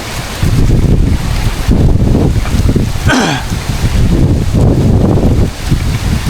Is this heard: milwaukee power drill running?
no